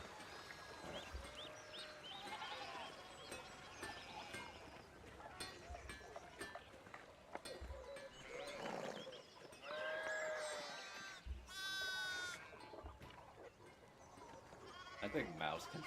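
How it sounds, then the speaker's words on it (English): Sheep blocking a road in the video game Pentiment bleat repeatedly, a cluster of nearby calls mixed with game ambience and some speech, with occasional low thumps. "Get the sheep off the road."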